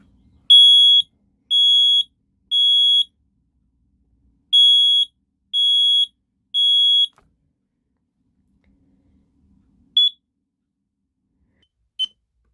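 A smoke detector under test sounds two sets of three loud, piercing, evenly spaced beeps, then gives two brief, fainter chirps after a pause.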